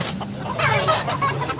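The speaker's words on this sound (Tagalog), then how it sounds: "Manok ra ba? Manok ra." A chicken at a gamefowl market in Tabunok, Cebu clucks in short, fairly close bursts over a busy background, with no talk.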